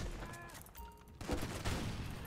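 Gunfire in a Minecraft video game, a few bursts of shots and impacts at moderate level over background game sounds, with no clear talk.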